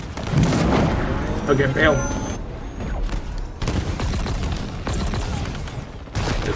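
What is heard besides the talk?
gunfire in the video game Halo Infinite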